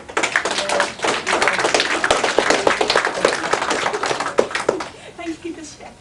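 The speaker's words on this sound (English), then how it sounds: "Let's give him a clap." Audience at an Armadacon 25 cosplay panel claps for a cosplayer: dense, lively applause filling most of the moment, then thinning into scattered claps near the end.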